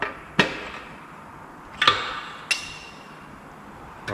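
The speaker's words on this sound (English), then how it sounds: "Good thing to use is the rubber grip on the bottom of the hammer" Caps on a VR6 turbo engine being tapped with the rubber grip of a hammer: three or four sharp, ringing knocks spaced irregularly, close and clear over a quiet background.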